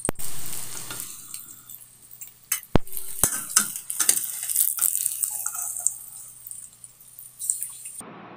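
Taro roasting in a pan for an Odia dish, a steady sizzle broken by repeated scraping and clinking of a metal spoon as the pieces are stirred, close and fairly loud.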